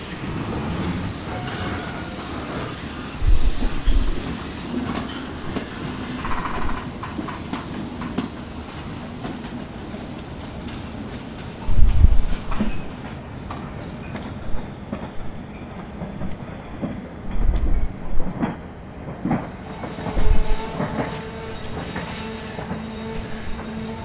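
A Rajdhani Express train rolls along in the Open Rails/MSTS train simulator game, with a continuous rumbling run, rhythmic clickety-clack bursts of wheels over rail joints and a steady background drone.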